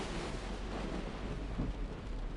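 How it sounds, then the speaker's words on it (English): Rain with rolling thunder in a foggy, slick-road setting: a steady, dense wash of rainfall and low rumbling, constant and fairly soft, with no voices. "Fog and rain again."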